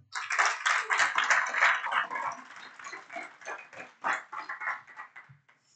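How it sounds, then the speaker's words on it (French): Church congregation at a French-language worship service applauding and cheering for the Lord, a dense crowd of claps and voices rising loudly, then thinning out near the end. "Acclamons pour le Seigneur"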